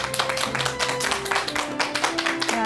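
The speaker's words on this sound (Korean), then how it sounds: "여러분 큰 박수로 맞이해 주시기 바랍니다" Studio audience claps to welcome a family medicine doctor onto a talk show stage, a dense, uneven burst of hand clapping with a faint musical tone running underneath.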